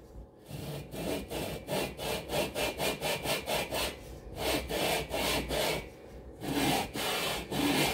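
Engine cylinder liners on a Cox 1600 being lapped onto their heads, a steady back-and-forth gritty rubbing of metal on metal in a quick regular rhythm, close and continuous with a few brief pauses.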